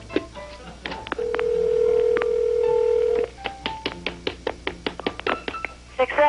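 Telephone keypad tones: a long steady dial tone, then a quick run of about a dozen short touch-tone beeps in irregular rhythm, close and clear, with faint background noise.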